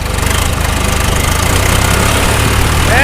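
A John Deere 2240 tractor engine runs close up after a cold start, giving a loud, steady diesel chugging with even rhythmic pulses throughout.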